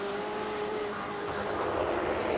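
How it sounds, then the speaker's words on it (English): Simulated race car in iRacing, a BMW CCA eSports round at Road Atlanta, roars steadily and loudly under braking as traction control briefly cuts in, giving a dense, continuous engine drone with a thin high whine. "Hear that traction control turn on a moment there."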